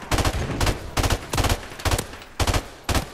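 Automatic gunfire in Call of Duty: Modern Warfare Remastered, a Headquarters match, comes in about seven loud, close bursts, each a rapid rattle of shots with short gaps between them.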